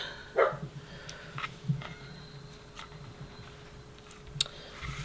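Finn, a house dog, barking at someone at the door: a few scattered barks and yips, fairly faint and distant, over a steady low room hum.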